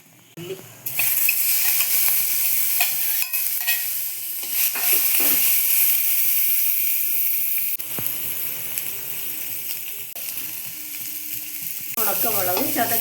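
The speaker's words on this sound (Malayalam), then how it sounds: "ഇനി നമുക്ക് അതിലേക്ക് ചതച്ച ഉള്ളി ചേർക്കാം. ആ എണ്ണയിലേക്ക്" Crushed shallots and dried red chillies hit hot oil and fry with a loud, continuous sizzle, stirred now and then with light clinks of the utensil, no talking over it.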